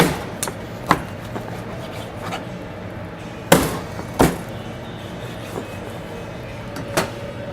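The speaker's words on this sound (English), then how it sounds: "So we'll just cut straight through the bone." A knife cuts straight through a rabbit bone while the meat is prepared for stew, giving a few sharp, sparse cracks and thuds over a low steady background hum.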